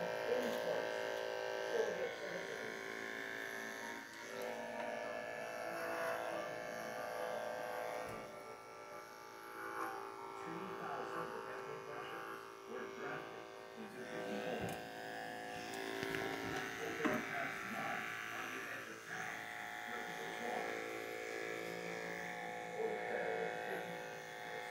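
Electric dog clippers buzz steadily while trimming a schnauzer's coat, a continuous close hum that runs throughout, with faint talk mixed in beneath.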